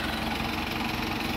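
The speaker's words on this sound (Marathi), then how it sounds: "आला बघा ट्रॅक्टर." A tractor's engine rumbles close and steady at an idle-like pace, loud and unbroken, at a Ram Navami festival gathering.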